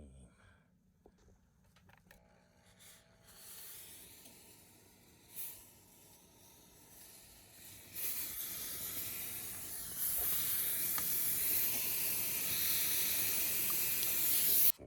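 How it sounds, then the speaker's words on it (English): A low hiss of escaping steam from a small steamer used for comic book cleaning builds and grows louder, becoming a steady, strong rush toward the end. "this is where I'm gonna run a little steamer. Run the steam."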